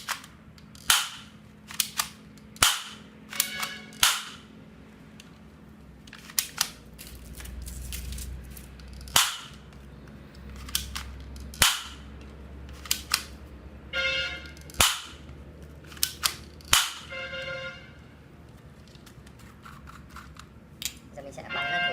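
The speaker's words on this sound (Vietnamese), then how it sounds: "Giờ mình sẽ bắn thử ở trên cái bia tập bắn cho các bạn xem." A toy Glock gel ball blaster fires a string of sharp, snappy cracks, some spaced apart and some in quick pairs, with a voice talking between the shots.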